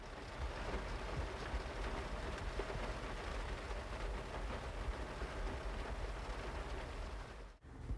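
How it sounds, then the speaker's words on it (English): Heavy rain falls steadily on the Nepisiguit Trail, a dense, even hiss that holds close and constant, broken only by one brief dip near the end. "it's still raining quite hard"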